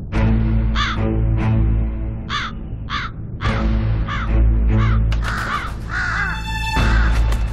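Crows caw repeatedly in short bursts over farmland once cleared by burning, in former tiger habitat, loud and fairly close, with irregular calls overlapping a steady low rumble and several birds joining toward the end.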